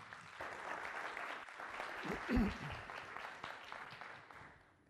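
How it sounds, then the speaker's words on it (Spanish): A conference audience at a LATINCACS information security talk applauds to welcome a speaker, steady clapping that swells briefly in the middle as a voice cuts through, then tapers slightly toward the end. "recibamos con un fuerte aplauso al señor Jamie J. Cano"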